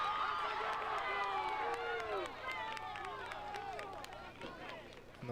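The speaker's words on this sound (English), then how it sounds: "Murillo, says the crowd." Spectators at a boys' soccer match against Stillwater chant a player's name, Murillo, as rising and falling shouted voices that fade gradually, with general crowd noise underneath.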